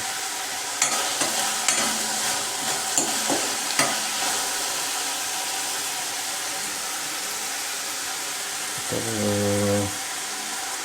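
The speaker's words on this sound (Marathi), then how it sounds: "हलकासा कांदा ब्राऊन होऊ द्या" Onion fries in a pan until lightly browned for a Maharashtrian methi bhaji, a steady sizzle with repeated close spoon-stirring scrapes and a brief tonal clatter near the end.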